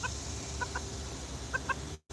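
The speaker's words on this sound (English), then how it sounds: "That hen wants out." A hen in a garden coop clucks in short paired bursts, two quick calls, a pause, then two more, close and moderately loud over steady background noise, cutting off abruptly at the end.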